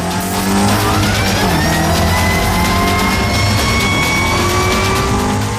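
A powerful 1400-horsepower Ford Mustang Mach-E 1400 drifting at speed, its electric motors whining and rising while tires squeal and scrub continuously; loud and close, no speech.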